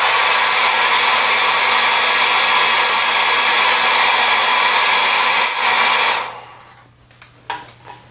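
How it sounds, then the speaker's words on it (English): A handheld hair dryer blows loudly and steadily over a wet sunrise painting for about six seconds, then shuts off, leaving a few faint clicks and taps. "we can go ahead and blow dry that too"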